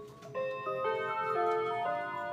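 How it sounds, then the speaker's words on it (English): A wall clock sounds the Whittington chime, a short run of clear, ringing bell-like tones stepping through a melody, moderately faint and heard alone. "which this is the Whittington chime"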